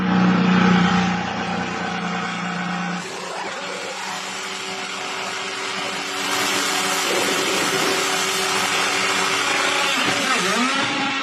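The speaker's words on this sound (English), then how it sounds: "Who would have ever thought we'd see an IndyCar pit stop in front of the White House?" An IndyCar at a pit stop outside the White House, its engine holding a loud steady drone before the pitch shifts and rises into a harsher, brighter whine, with mechanical whirring throughout.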